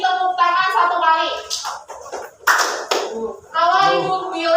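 Students in a classroom game clap their hands in short bursts on cue, with a teacher's voice and children's speech between the claps in a lively indoor room.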